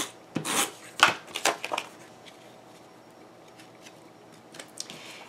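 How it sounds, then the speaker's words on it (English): Paper photo trimmed for a scrapbook page: a quick run of crisp snips and rustling cuts up close, followed by quieter faint handling and a couple of light clicks. "Trim off a little bit more so you can see more of that paint"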